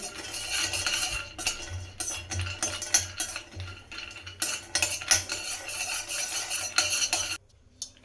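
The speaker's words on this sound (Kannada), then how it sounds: "ಡ್ರೈ ಫ್ರೂಟ್ಸ್ನ ಹಾಕಿ ಹುರ್ಕೊಳ್ತೀನಿ ಇದನ್ನು ಅಷ್ಟೇ ಒಂದು ಎರಡು ನಿಮಿಷ ಹುರ್ಕೊಂಡ್ರೆ ಸಾಕು" Dry fruits roasting in a pan for poppy seed payasam, with a metal spoon scraping and clinking against the pan almost continuously, close and busy, then stopping abruptly near the end.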